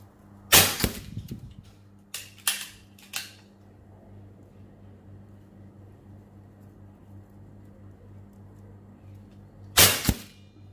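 A PR900 air rifle fires JSB Hades pellets, giving sharp, loud, isolated cracks, a few close together early on and one more after a long quiet gap, over a low steady hum.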